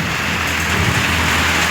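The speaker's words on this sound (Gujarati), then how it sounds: "ફૂલ વરસાદ આવી ગયો આમ જોવો તમે" Heavy rain pours down steadily in a village, a dense, loud, continuous wash of drops hitting surfaces with no break for the whole moment.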